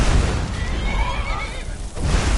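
Horse neighing in Skyrim: a loud, drawn-out whinny stretching across the moment, thick with background rumble and noise, no talking.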